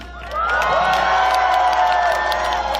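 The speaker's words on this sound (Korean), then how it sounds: "진짜 큰 박수 다시 한번 주십시오." A crowd cheers and applauds at a Reform Party election rally held the day before the vote, with a dense, steady roar of voices and clapping that swells in after a brief quiet start and holds loud to the end.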